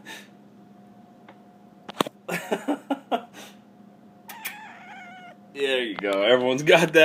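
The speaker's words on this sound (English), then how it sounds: "And that is my cat, if you can hear her rustling around." A pet kitten moves around indoors in a room, with a few soft knocks early on and louder, drawn-out meows near the end, while a person talks nearby.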